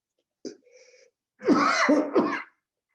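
A short intake of breath followed by a loud, explosive sneeze, close up, then silence.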